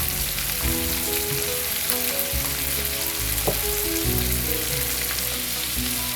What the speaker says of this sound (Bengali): চিংড়ি মাছটা আমার ভাজা হয়ে গিয়েছে